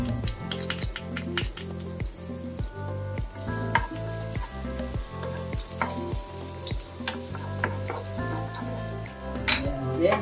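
Garlic sizzling in hot olive oil for a lemon seafood pasta, a close, crackling fry with rhythmic stirring scrapes and small pops throughout, no voices.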